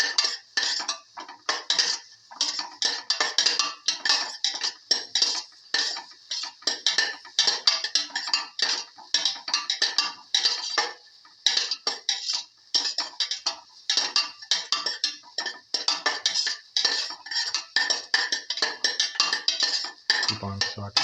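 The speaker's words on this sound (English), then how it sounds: "Thoroughly salt and mix." A spoon clinks and scrapes rapidly against a metal pot as salted potato, coconut and fenugreek leaf stew is stirred, a continuous busy rattling that carries on without pause for about twenty seconds.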